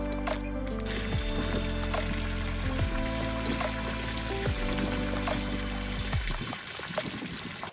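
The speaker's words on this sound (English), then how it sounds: "Now we're just gonna empty it for the first time and then refill." Water drains from a motorhome's fresh water tank in a steady gushing, gurgling flow that runs close and loud before tapering off abruptly near the end.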